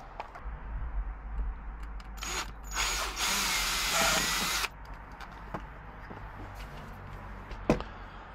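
A power drill bores a 6 mm hole while a diesel heater is installed in a Fiat Ducato-type van, one loud close whirring burst of about two seconds amid scattered handling clicks and knocks.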